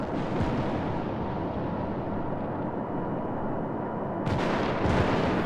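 Battleship guns firing in World of Warships from a New Mexico class battleship: a sustained heavy rumbling roar with a sharper blast near the end, loud and continuous with no talk.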